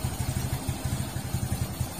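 A Kawasaki Fury 125 motorcycle engine runs after a one-click start on a newly fitted starter motor, its close, steady putter beating in a quick, even rhythm with a light mechanical clatter and no talk.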